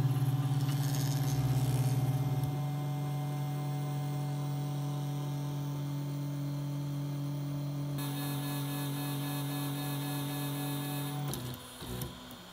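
A compact transportable 3D printer homes all three axes with whining stepper motor tones in stages, shifting pitch as each axis moves, then a few clicks as it stops, close and quiet.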